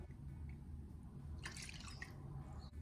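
Water for a fried milk cake batter is poured in, a short close trickle and drip of about a second over low background hum, with no talk.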